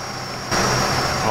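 A steady truck engine drone in SnowRunner kicks in abruptly halfway through, loud and close, heard from inside the cab, with a constant high whine running over it.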